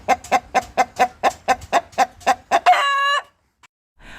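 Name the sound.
chicken clucking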